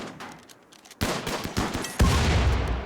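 Video-game gunfire from RimWorld: a dense volley of overlapping shots that grows louder in two steps into a sustained, heavy fusillade, with no talking.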